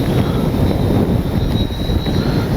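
An OV-10 Bronco RC model airplane makes a low glamour pass, its propeller engine a steady, loud drone with no pause.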